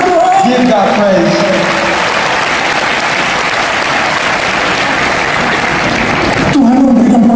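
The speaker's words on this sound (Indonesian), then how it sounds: "ini tepuk tangan buat Tuhan" A church congregation claps in praise, a broad sustained wash of applause mixed with voices, with sung or spoken voice at the start and a speaker returning as it ends.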